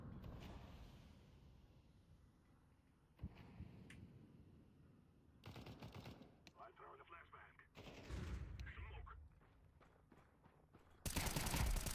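Pistol gunfire in a Counter-Strike match: faint, scattered bursts of shots break through a quiet low background several times across the round, with the last volley the loudest.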